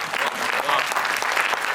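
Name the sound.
audience applause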